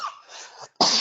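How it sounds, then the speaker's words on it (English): A single person coughs twice in quick succession, close and fairly loud, with the second harsher and more forceful than the first and a short pause between them. "cough from talking to you"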